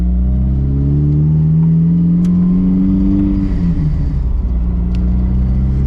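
A built Nissan S15 twin-turbo engine roars loudly and continuously, revving up as the car pulls away hard, with a rising whine and heavy rumble close by.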